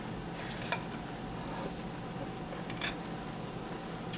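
Cottage cheese pancake batter is spooned into a hot pan, making a steady sizzle with faint scraping touches from the spoon and no voices.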